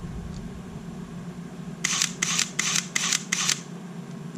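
A Sony A7 camera with a non-functioning mode selection wheel fires its shutter five times in quick, evenly spaced, crisp clicks over about two seconds, fairly close and clear above a low background hum, with no talking.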